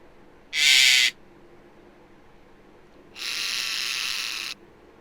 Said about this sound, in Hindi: ओल को हिंदी में उल्लू कहते हैं।